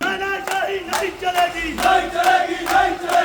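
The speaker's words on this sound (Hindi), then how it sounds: "भड़के लोगों ने अस्पताल के अंदर जमकर नारेबाजी की" An angry crowd inside a hospital chants slogans in loud, rhythmic bursts of massed voices repeating on a steady beat, close and forceful.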